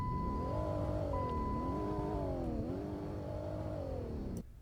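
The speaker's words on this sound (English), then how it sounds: "Okay, hear the revs." A 2008 Dodge Charger engine revs steadily and loudly up close, its pitch rising and falling in several swells over a sustained idle-like drone before cutting off abruptly near the end.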